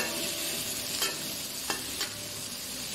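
Garlic and onion sauté in a pan for squid adobo, a steady broad sizzle with a few brief stirring scrapes standing out above it.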